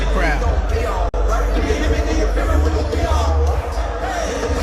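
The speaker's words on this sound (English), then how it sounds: "Look at that fucking crowd." A stadium crowd of some 65,000 at a concert in Mexico roars in a dense, steady wall of cheering and chatter, loud and continuous, with one brief dropout near the start.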